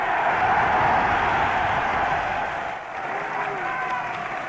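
A huge crowd in Montreal cheers and applauds de Gaulle's balcony speech, a dense, roaring wash of clapping and shouting heard through an old, hissy broadcast recording, steady and loud with a brief dip partway through.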